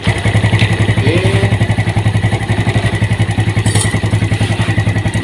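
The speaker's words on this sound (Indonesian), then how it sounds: "Sepeda motor hidupkan, coba jangan digas ya, hidup aja itu." A Honda Vega motorcycle idles steadily with no throttle, a close, loud single-cylinder putter with an even rapid pulse and light mechanical clatter throughout.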